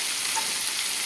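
Tempering spices such as chana dal, urad dal, mustard seeds and curry leaves fry in hot oil for buttermilk rasam, giving a close, even, unbroken sizzle.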